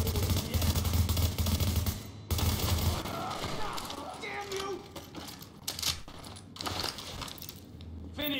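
Gunfire from an M4 rifle in The Division's Dark Zone, a loud sustained burst of rapid automatic shots for the first few seconds, then scattered shots and clatter under a voice talking.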